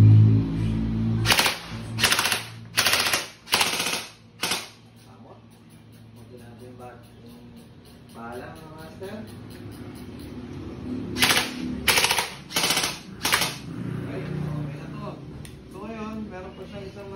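An E&C 620 airsoft gun fires full auto in several sharp, rapid bursts, a loud cluster at the start and another near the end, with someone talking quietly in the gaps between.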